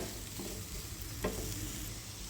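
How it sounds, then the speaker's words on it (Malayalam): Onion and ginger sautéing in a pan while being stirred, a steady soft sizzle with a brief louder scrape of stirring partway through; no talking. "ഉള്ളിയും ഇഞ്ചിയും ഒന്ന് നന്നായി വഴണ്ട് വരണം."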